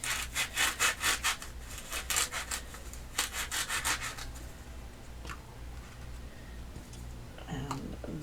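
A blade rasps back and forth through a foam pool noodle being trimmed to fit a patriotic Fourth of July decoration, quick rhythmic strokes close to the mic, then quieter scraping and a few soft handling sounds.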